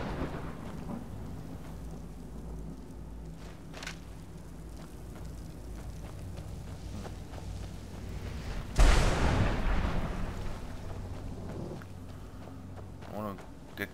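A thunderstorm in the video game Skyrim: a low rain-like wash runs throughout, then a loud rolling thunderclap bursts in and rumbles off over several seconds, with someone talking at points.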